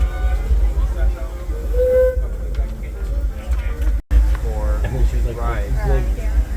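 Riding aboard the Holiday 5 passenger car on the Disneyland Railroad: a steady low rumble of the moving train with passengers talking over it, briefly cut off midway before resuming.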